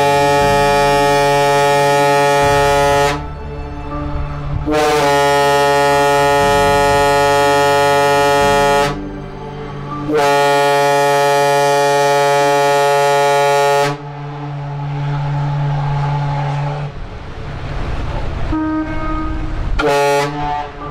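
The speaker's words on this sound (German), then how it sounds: "Selbstverständlich begrüßen sich zwei Museumsschiffe mit dem Signalhorn." Two museum ships on a canal greet each other with loud, deep signal horns, three long sustained blasts separated by short pauses, followed by quieter ambient sound and a brief final toot.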